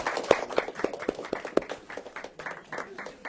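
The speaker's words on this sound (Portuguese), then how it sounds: "Uma salva de palmas, por favor" Light, scattered hand clapping from a small audience at a live broadcast, a few distinct claps at first then a quieter, uneven patter that fades toward the end.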